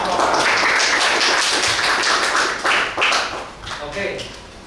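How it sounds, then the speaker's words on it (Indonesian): Children clapping in a school classroom, a brisk burst of many small hands that fades toward the end while a voice speaks briefly over it. "Oke, kasih tepuk tangan untuk"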